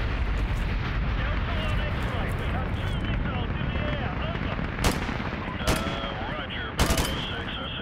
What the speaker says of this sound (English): Delta 1 looks like we have a missile launch.